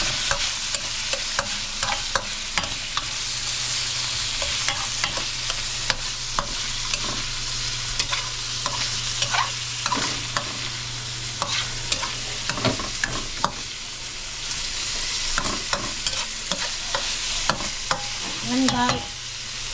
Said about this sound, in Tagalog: Halu-haluin natin at tatakpan natin.